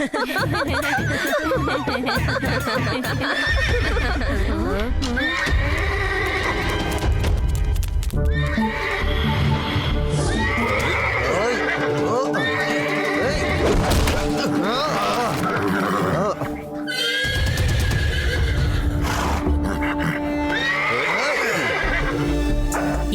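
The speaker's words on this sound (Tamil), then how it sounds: "ஏதோ ஒரு காட்டு குதிரைக்கு பிரச்சனைன்னு நினைக்கிறேன்." A horse neighs and whinnies loudly several times over galloping hooves and dramatic background music in a Tamil TV show scene, with speech heard in places.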